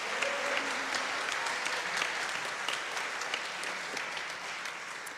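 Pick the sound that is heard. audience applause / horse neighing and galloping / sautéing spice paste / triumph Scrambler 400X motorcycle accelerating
audience applause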